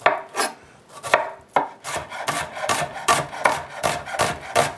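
A knife slices an onion thinly on a cutting board with crisp, close strokes that start spaced out and then quicken into an even rhythm, with no voices.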